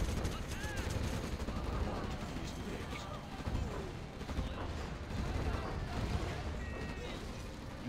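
Gatling cannons firing in Command & Conquer: Generals Evolution amid a battle, rapid rattling bursts and crashing impacts layered over one another, heard under someone talking.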